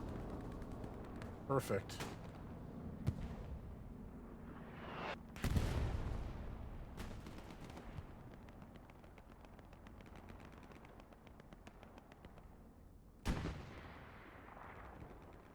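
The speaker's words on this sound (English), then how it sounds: "Oh, the strafing run." Aircraft strafing gunfire in the WWII shooter Hell Let Loose on Juno Beach, a few loud sharp bursts and impacts early on, then a rattling stretch of distant fire with another heavy blast near the end, a voice speaking briefly.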